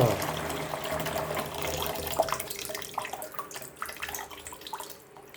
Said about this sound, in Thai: ก็เติมน้ำให้ท่วมเลยนะครับ